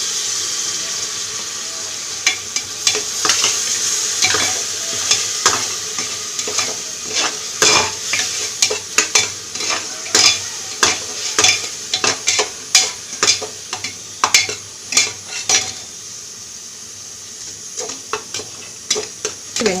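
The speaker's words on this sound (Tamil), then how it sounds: "இப்போ வெங்காயம் ஓரளவு வதங்கிருச்சு." Onions sauté in a hot pan for tomato rice, a soft sizzle under repeated, rhythmic scraping stirs of a spoon, close and clear.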